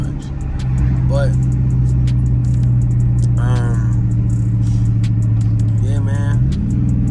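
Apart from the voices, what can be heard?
Dodge Charger SRT engine revving while driving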